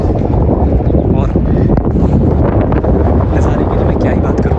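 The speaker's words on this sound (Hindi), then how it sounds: "तेज़ हवा सामने आती हुई" Strong mountain wind near Chandertal Lake, Himachal Pradesh, buffets the microphone in a continuous loud, rumbling roar with no pauses.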